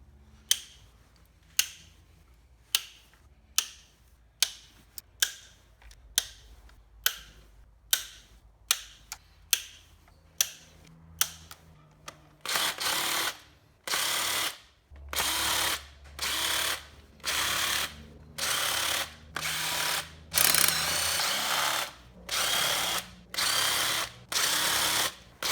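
A stuck bolt on a Chevy Cruze valve cover is worked loose, first with a rapid run of separate ratchet clicks, then with loud repeated bursts of a power tool spinning, close and unaccompanied.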